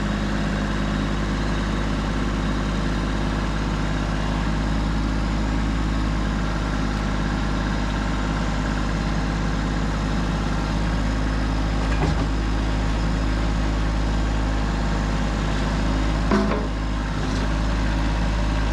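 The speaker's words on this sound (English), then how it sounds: "I actually love this Kubota tractor." A Kubota compact diesel tractor engine idles steadily nearby in the woods, a continuous low rumble with occasional faint clanks.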